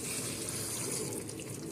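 Soaked moong dal being rinsed under running water, a steady close splashing and trickling stream from a tap into a bowl, uninterrupted.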